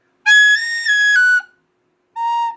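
A metal tin whistle plays two clear, bright notes, a long sustained tone with a slight pitch shift near its end, then a pause and a shorter note, close and loud with no talking.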